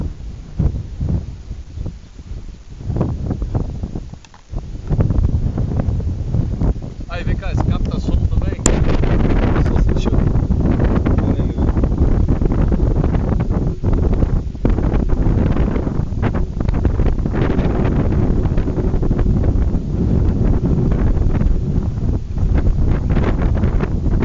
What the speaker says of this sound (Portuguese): Que vento é esse?